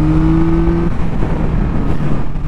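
A Yamaha MT-09 motorcycle engine revs loud and close, with a steady tonal drone in the first second that gives way to a rougher, throaty roar throughout.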